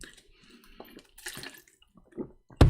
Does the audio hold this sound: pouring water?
yes